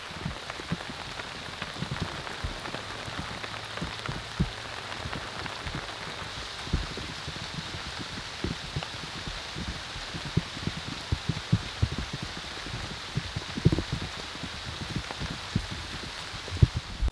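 Heavy rain drums steadily on a bunker tent at a campsite, a dense continuous patter with scattered louder drops, heard up close and alone with no talking.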